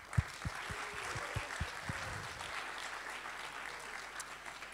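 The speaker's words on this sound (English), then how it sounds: "So a big, big applause for our sponsors." Audience applause for sponsors at a Garage48 hackathon event in Grodno, Belarus: a steady wash of clapping from a crowd, moderately loud, with a few heavier thumps near the start.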